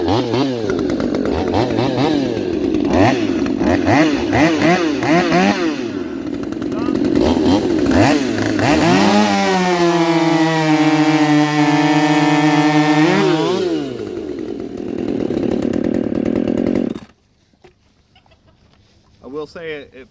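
Two Husqvarna chainsaws, a T540i and a T540 Mark III, race side by side with loud, close buzzing that bogs and climbs in pitch as they cut, then cuts off abruptly, leaving near silence with faint handling noises.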